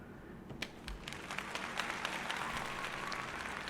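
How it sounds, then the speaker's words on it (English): Soundboard applause effect, a dense wash of clapping that swells and holds steadily at moderate level, with some light voice traces underneath. "I just lamely, did an applause button for introducing John"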